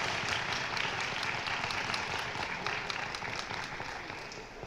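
An audience applauds a third-place winner at a 2022 speech contest, dense steady clapping from a crowd that holds for several seconds and then gradually fades.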